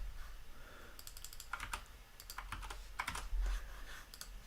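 Quiet, uneven bursts of keystrokes on a computer keyboard during programming work, clustered clicks with short pauses, close and alone.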